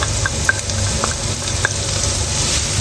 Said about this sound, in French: je vais ajouter mon oignon dans la graisse du bacon bien sûr